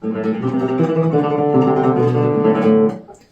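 Bowed string notes rapidly re-articulated in a fast shimmering tremolo, sustained and full for about three seconds before fading.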